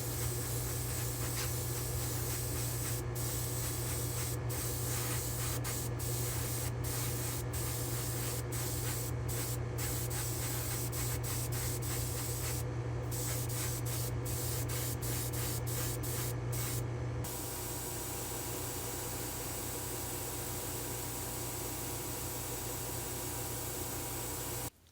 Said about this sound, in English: we'll try a little SemiGloss on these wheels